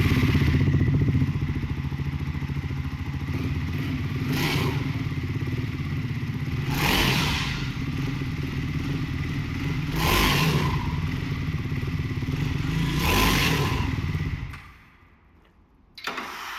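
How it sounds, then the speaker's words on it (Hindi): A Triumph Scrambler 400 XC motorcycle exhaust note: a loud, close engine idling with four sharp revving bursts spaced a few seconds apart, then the engine cuts off abruptly near the end. "तो कुछ इस तरह का एग्जॉस्ट नोट मिल जाता है with the Triumph scrambler 400 XC"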